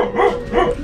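A dog barks angrily twice in quick succession, close and loud, sharp harsh yaps with a short pause between them.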